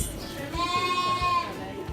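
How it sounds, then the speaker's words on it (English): A single goat bleats, a wavering, drawn-out cry lasting about a second, close by with light background noise. "And then these goats."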